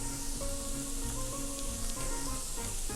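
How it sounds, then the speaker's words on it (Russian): Steady sizzling of onion, carrot and sweet pepper frying in a pan, a continuous crackle with a faint tonal hum underneath, no talking. "Пока лук, морковка и сладкий перец будет обжариваться"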